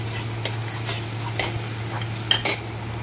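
Spice paste with garlic and cumin fries in a pan for a Bangladeshi ridge gourd curry. A steady low sizzle runs under scattered scraping strokes of a utensil stirring against the pan.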